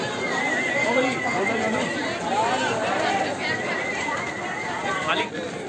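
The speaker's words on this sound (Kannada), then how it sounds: "ಕುದುರೆಗಳಂತೂ ಇಲ್ಲಿ ಸಿಕ್ಕಾಪಟ್ಟೆ ಇರ್ತವೆ" Horses along the Vaishno Devi pilgrimage trek whinny amid steady crowd chatter, with one clear call rising near the end over the busy outdoor murmur.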